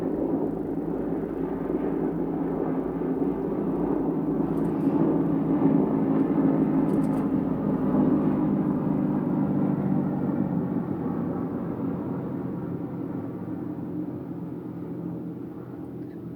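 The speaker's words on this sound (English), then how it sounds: "airplane going above us." Steady low rumble of a jet airliner passing high overhead, a broad continuous roar that swells slightly and then slowly fades, heard from the ground with no voices.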